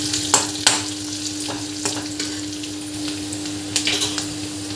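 Potatoes frying with onions and ginger garlic paste, heard as a steady close sizzle with a few sharp scrapes and clacks of stirring scattered through it.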